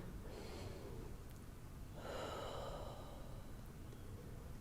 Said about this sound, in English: Taking one more breath in and out.